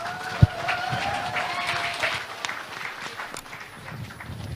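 An audience at a Liberty Korea Party leadership convention debate welcomes candidate Hong Joon-pyo with applause. The clapping is moderate and steady, starting after a sharp thump, with a faint voice or tone early on, then slowly thins out.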